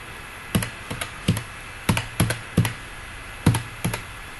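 A computer keyboard clatters as a number is typed into an Excel spreadsheet: about a dozen distinct, close keystrokes in uneven bursts over a quiet background.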